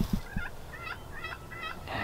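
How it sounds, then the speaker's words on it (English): Wild turkeys gobble during a vocal morning hunt, several rattling bursts in quick succession at moderate distance over quiet outdoor background. "And they keep gobbling,"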